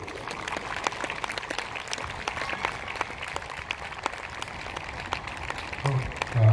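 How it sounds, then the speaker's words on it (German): Audience applause for a woman named Conny at a hot-air balloon glow during the Fürth Michaelis fair, sustained steady clapping from a crowd, fairly distant and even, with a brief low thump near the end. "Und ich denke an der Stelle auch ein Applaus für unsere Conny"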